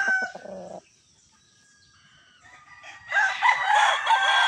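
A Boston Roundhead gamefowl rooster crows at a game farm. A short clucking call comes first, then after a quiet gap a loud, close, full crow rises and carries on to the end.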